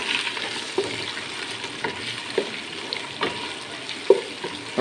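Beef frying in hot ghee with ginger garlic paste, a steady crackling sizzle with periodic clinks and scrapes of a spoon stirring the pan, fairly quiet and without speech.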